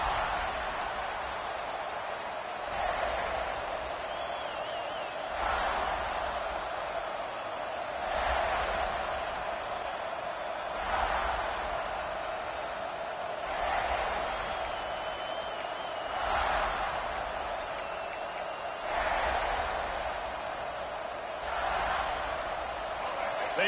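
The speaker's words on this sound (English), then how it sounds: "They challenge this crowd to bring the energy, and I'd say they're doing that" A large football stadium crowd at a South Carolina versus Clemson game roars steadily, with swelling waves of cheering repeating every few seconds under constant distant crowd noise.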